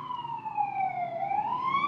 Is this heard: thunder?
no